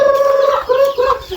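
A chicken clucks close by in a quick series of short, throaty calls, loud and alone.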